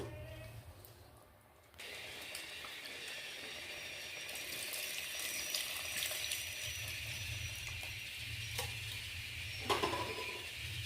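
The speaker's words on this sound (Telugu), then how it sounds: "ముందుగా మనం నానబెట్టుకున్న చింతపండు రసం వేద్దాము" Tamarind water for sambar pours steadily into a pot with a soft, continuous splashing rush, quiet and close, starting abruptly after a short pause.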